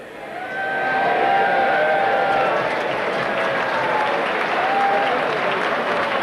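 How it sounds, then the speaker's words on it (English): New Labour MPs applaud in the House of Commons, a broad, sustained wash of clapping from a large crowd that swells and holds steady, with a voice talking over it. "new Labour MPs broke with convention by clapping Tony Blair's first appearance"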